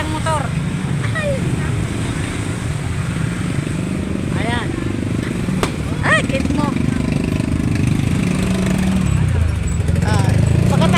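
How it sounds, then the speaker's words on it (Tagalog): Motorcycle parade after a religious procession, engines idling and revving as bikes pass close by, with chirpy horn-like tones, under frequent nearby talk. "Yan, parada ng motor."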